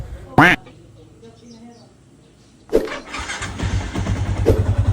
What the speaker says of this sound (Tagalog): pinaandar ko na yung makina